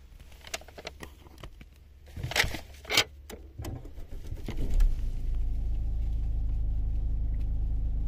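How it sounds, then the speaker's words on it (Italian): An Opel Grandland X with a no-start fault is started by pressing the Start/Stop button; a few clicks and mechanical knocks come first, then the engine cranks and catches, settling into a steady, close idle rumble. "Macchina partita."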